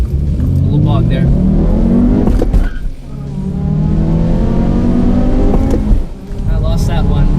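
2017 Honda Civic Hatchback Sport accelerating hard down a drag strip, a loud continuous engine roar climbing in pitch through two gear changes, heard close from inside the car.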